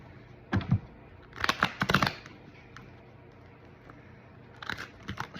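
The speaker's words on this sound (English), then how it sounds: "I'm not very good at shuffling." Tarot cards being shuffled by hand, with a few short riffling and slapping bursts separated by quiet pauses, close and fairly soft.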